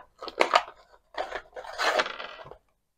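Sellotape-sealed packaging holding Oldhammer miniatures is picked open by hand, giving close crackling, tearing and scraping rustles in two bursts with a short pause between.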